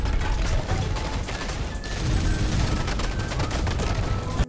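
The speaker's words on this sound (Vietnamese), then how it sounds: "hai tay cầm hai khẩu súng điên cuồng bắn vào bọn họ" Two pistols fire wildly in an action film shootout, a dense, rapid volley of loud close gunshots mixed with crashing impacts and mechanical clatter, continuous for several seconds.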